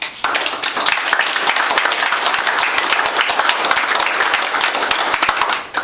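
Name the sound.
audience applause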